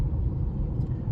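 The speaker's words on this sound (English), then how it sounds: "this car, I don't think I've driven this slow in a while" A car creeps along slowly behind a dump truck, a loud steady low engine and road rumble heard from inside the cabin, continuous and unbroken with no talking.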